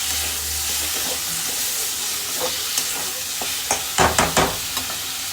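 Masala spices fry in a pan with a steady hiss and sizzle, a spoon scraping and clattering against the metal, growing busier toward the end, close and without voices.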